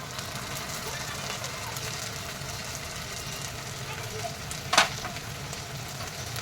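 Fried ginger and garlic keep up a steady sizzle in a pan, and tomatoes drop in with one brief, louder clatter-splash near the end before the frying hiss carries on.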